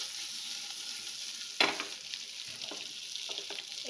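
Homemade chicken kebabs fry in a pan with a steady, quiet sizzle of hot oil, broken by one sharp spatter as a piece is turned, followed by softer crackles and faint scraping.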